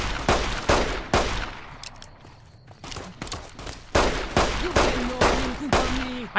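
Gunfire in Fallout: New Vegas, the Honest Hearts add-on, a string of sharp close shots in irregular bursts with short gaps between, plus a few brief game tones near the end.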